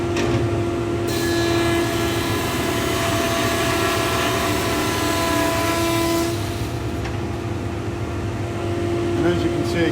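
A Woodman PT310HH planer thicknesser with a helical cutter head planes wood, taking shallow passes. Its loud, continuous mechanical drone carries a steady whine that shifts slightly partway through.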